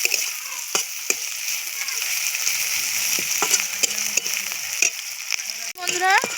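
Soaked dried shrimp fry in hot oil until reddish, giving a steady bright sizzle with occasional spoon taps and scrapes, then a short sharp burst of louder crackling near the end.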